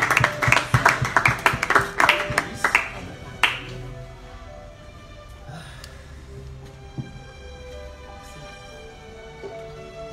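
A church congregation claps together to acclaim the Lord, a quick burst of crisp rhythmic claps that fades within a few seconds into quieter room sound and scattered taps.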